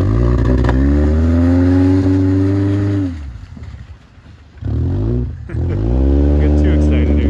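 A Subaru AWD car's engine, smoking with an oil problem, revs up with rising pitch, drops off briefly, then roars and climbs again twice as it launches, close and powerful.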